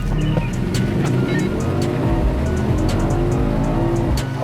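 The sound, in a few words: cars accelerating in a quarter-mile drag race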